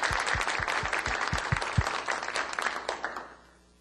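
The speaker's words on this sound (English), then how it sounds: "If we can just give them again a round of applause." Audience applause at a technology forum, a dense burst of clapping that holds steady and loud for about three seconds before thinning and fading out near the end.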